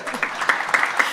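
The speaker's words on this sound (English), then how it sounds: "I think we can clap for her." An audience claps steadily at a Women's Month celebration event, a brief burst of dense, even applause heard alone.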